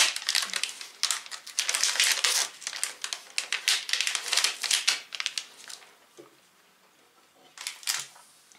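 A wrapper crackles and crinkles as an Alpen Gold milk chocolate bar with fig, coconut and salted cracker is opened, a dense run of close, sharp rustles that eases into quieter handling, then a final short crinkle.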